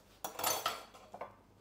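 A knife chops fresh chives on a cutting board while potato and bryndza filling for pirohy is prepared, giving a few close, sharp taps with brief scraping, loud at first and then lighter and spaced out.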